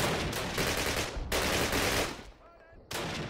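Heavy automatic gunfire in a night mission of a Call of Duty British campaign, with loud sustained bursts, a short lull near the end, then firing resuming.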